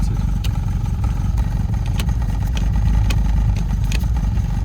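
The engine of a Lotus Elan restomod runs steadily after starting, a close, even mechanical drone with faint ticking and clatter, and nothing else breaks through it.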